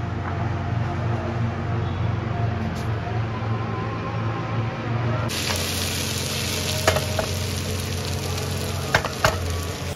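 Onions fry in a pan alongside okra in a home kitchen in Pakistan, a steady close sizzle with soft crackling that brightens partway through, plus a few faint clinks near the end.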